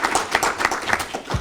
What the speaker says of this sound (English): let's give Val Williams a round of applause